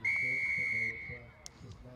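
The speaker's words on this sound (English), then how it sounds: "We've got a whistle I can hear in the background" A referee's whistle at a Ukrainian rugby league final between Kharkiv Legion XIII and Lviv Tigers gives one long, shrill blast over faint crowd noise, followed by a commentator talking.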